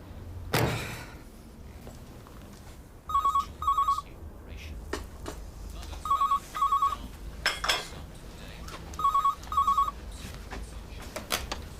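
Landline telephone ringing in paired bursts, three double rings spaced evenly, fairly close and clear over a quiet room with a few soft thuds.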